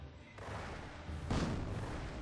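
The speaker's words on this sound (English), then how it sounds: "they're already pounding us with mortars" Enemy mortar shells pound the position in Company of Heroes, Eastern Front mod: a dull distant boom followed by a louder, closer blast with rumbling debris, both under steady battlefield ambience.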